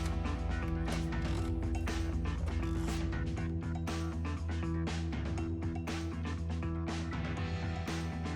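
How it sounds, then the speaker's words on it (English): A hand ratchet clicks rapidly and steadily while loosening bolts and nuts from the intake manifold of an E92 BMW, close and continuous over a low hum, with no talk. "We'll remove all of those bolts and nuts, and then the manifold will just come right out of there."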